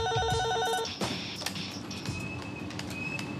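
Office telephone rings at a furniture company's sales call center, a bright electronic trill in a repeating pattern, then a switch to other tonal beeps and background bustle in the room.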